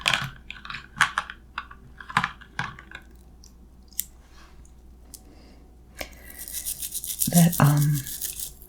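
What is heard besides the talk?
scrubbing keyboard keycaps with a toothbrush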